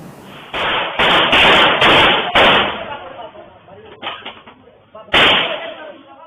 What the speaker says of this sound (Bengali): যুবদল নেতার বাড়িত লক্ষ্য করেই হুলস্থুল গুলি চালাবের ঘটনা ঘটটি